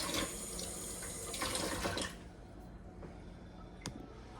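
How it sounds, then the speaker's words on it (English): Mixture poured into a casserole dish at home, a steady wet gushing pour for about two seconds, then quieter settling sounds and a small clink near the end. "So now I'm just going to pour this in my casserole dish."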